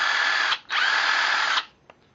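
An 18-volt cordless impact driver with a 1/4-inch hex chuck whirs loudly in two close bursts, a short run and then a longer one, separated by a brief pause and followed by a faint click.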